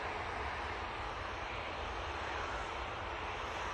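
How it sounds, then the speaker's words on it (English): An Airbus A320ceo airliner departs toward Paris Charles de Gaulle from Manchester Airport, its jet engines producing a steady, broad roar that stays level and distant throughout with no voices. "Off to Paris Charles de Gaulle, we'll be going with this A320 CEO"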